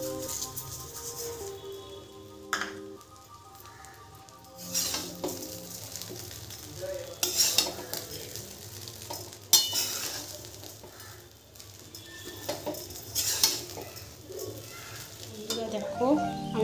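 Pulao rice being stirred in a pan, intermittent scraping and clattering strokes over a soft sizzle, with bursts of faint background noise and a bird calling in the distance.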